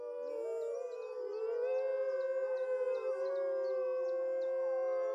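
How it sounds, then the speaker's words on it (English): A captive pack of wolves gives a defensive howl: several overlapping, long, wavering howls rise and blend into a loud sustained chorus, with higher yips and cries layered on top. "This is a defensive howl."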